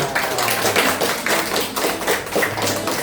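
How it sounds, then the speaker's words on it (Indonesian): Sunday school children clap their hands together at a gathering in a family home, a dense, steady patter of many small hands that swells and dips in waves with no voices over it. "Ya, tepuk tangan."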